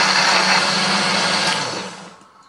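A kitchen blender grinds chili, ginger, garlic, shallots, candlenuts and spices with a little water, a loud steady whirring that runs nearly the whole time and then winds down at the end.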